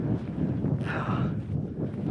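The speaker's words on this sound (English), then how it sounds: "Chilly up here, cold wind." Cold wind gusting across an exposed mountain crossing in Lofoten, a steady rushing roar buffeting the microphone with a brief brighter swell in the middle, no one talking.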